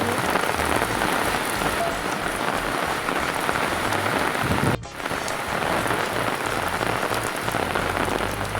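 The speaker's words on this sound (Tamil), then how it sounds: "பார்த்தீங்கன்னா எதையே மழை பெய்யுது தெரியும்னு நினைக்கிறேன்" Heavy rain pouring down in a village, a dense, loud, continuous hiss of drops on surfaces that fills the whole clip, with a brief dip midway.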